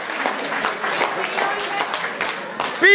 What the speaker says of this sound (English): A good round of applause for our maid of honor on those very special words.